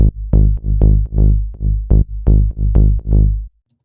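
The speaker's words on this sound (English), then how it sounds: "So now the second tech house bass is going to be your saw wave pluck" Saw-wave pluck bass for tech house, programmed in the Serum synth, plays a bouncy riff of about a dozen short, bright notes with quick decays, loud and alone, stopping at three and a half seconds.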